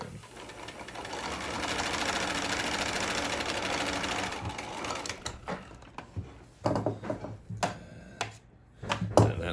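Sewing machine stitching a seam along the folded edge of canvas fabric for a winter camping hot tent, a steady loud whir for about five seconds, then short stop-start bursts of stitching.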